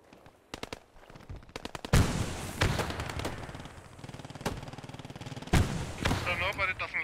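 Machine gun fire in the WW2 game Post Scriptum: rapid bursts of automatic shots, near and loud, alternating with sharp single cracks and echoing reports, continuous combat ambience between them.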